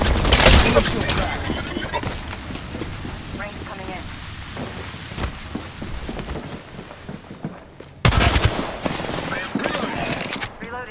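Rapid automatic gunfire in the video game Apex Legends, loud bursts at the start and again near the end with scattered shots between, mixed with game effects and a player talking.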